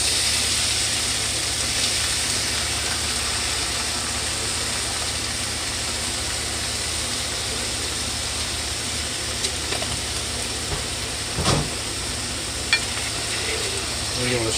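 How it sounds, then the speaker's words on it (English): A spoon stirs Prego spaghetti sauce in a pot on the stove, giving a steady, continuous scraping and sloshing with a brief louder clatter partway through. "We're going to stir this up"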